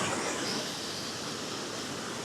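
A waterfall in the rain gives a constant broadband rush of falling water, steady and full throughout with no voices.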